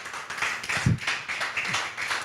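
A church congregation applauding during a sermon, a dense, steady patter of many hands clapping at once, moderately loud and unbroken.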